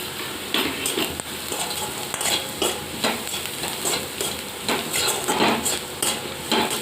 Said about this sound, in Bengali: আমার রসুনটাও ভাজা হয়ে গেছে